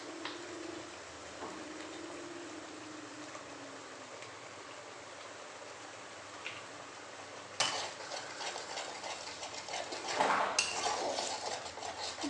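Golda prawns are stirred with ginger garlic paste in a pan, quiet scraping and soft sizzle at first, then louder clattering stirring in the second half.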